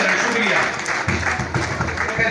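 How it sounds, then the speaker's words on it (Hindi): Applause greets pigeon-racing prize winners at a Karachi prize distribution, a dense wash of clapping from a crowd that swells into clearer rhythmic claps in the second half, with voices mixed in. "भाइयों भरपूर तालियों में इनका वेलकम कर रहे हैं"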